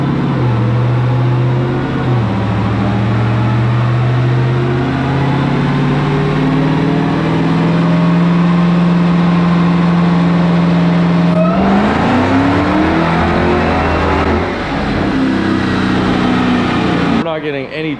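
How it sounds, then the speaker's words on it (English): A 1,000hp Dodge Hellcat revs hard with its tires spinning without traction, a loud sustained engine roar rising and holding, then dropping and climbing again near the end, with voices talking over it. "Not getting any traction whatsoever. Tires are just spinning."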